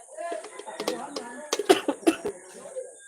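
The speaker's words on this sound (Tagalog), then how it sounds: "Naubo pa ako" A few short, sharp coughs from a person, bunched in a quick cluster close to the microphone and surrounded by quieter background sounds.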